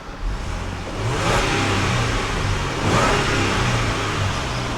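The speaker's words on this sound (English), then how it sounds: "it is a supercharged V6 and it absolutely sounds like nothing" A 2015 Land Rover LR4's supercharged V6 revs up twice, rising and holding steady in a smooth mid-pitched drone, fairly loud and close with no talking.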